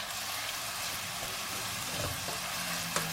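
Onions heating in oil in a pan for a matar pulao, a soft, quiet, steady sizzle with faint crackles and an occasional light tap.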